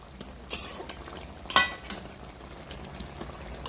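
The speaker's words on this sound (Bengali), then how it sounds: "দিয়ে আর একটু আমি ফুটিয়ে নেব" Fried lakshmi kajol fish simmering in a bubbling eggplant curry, a steady low bubbling and sizzle broken by a couple of sharp spoon-against-pan clinks.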